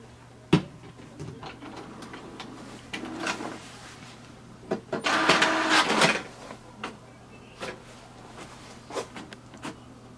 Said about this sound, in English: So you can see the printer has started to print.